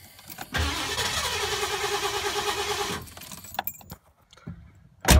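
Ford LTD car engine cranking and catching, then running loud and steady for about two seconds before cutting off, with keys jangling and a few clicks and knocks afterward.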